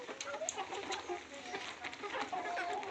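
Gavran country chickens, hens and roosters together in a farm setting, giving soft scattered clucks and calls with light rustling all around, fairly quiet and close, with no talk.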